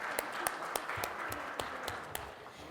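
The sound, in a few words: audience applause for the panelists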